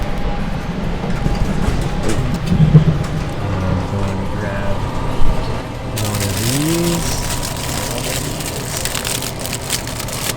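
A steady rumbling roar of a moving train fills the clip, with rattles, squeals and clatter; voices murmur faintly beneath the noise.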